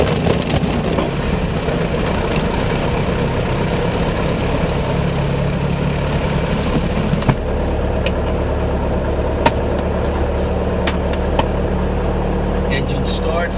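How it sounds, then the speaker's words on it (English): A small aircraft engine starts and settles into a steady, loud idle, a continuous low rumble with brief clicks and knocks, while a voice talks over it in places. "Engine start, fuel pump is coming off. Oil pressure is up."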